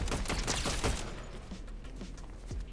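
Rapid gunfire bursts crackle in a shooter game, a dense fusillade of close shots in the first second, then thinning to scattered pops and mechanical clicks.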